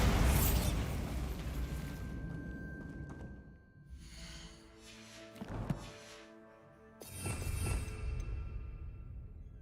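Bombarda blasting spell explosions in the Hogwarts Legacy video game: a loud opening boom with rumbling debris, then further bursts and crackling magical blasts with ringing tones, no talk.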